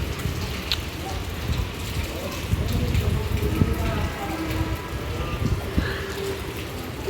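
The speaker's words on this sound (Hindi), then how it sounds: "पानी बरसने लगा, पानी बरस रहा। ज़्यादा तेज़ तो नहीं बारिश हो रही" Light rain falling outside a village house, a steady soft patter and drip throughout, with low rumbling background and faint occasional voices.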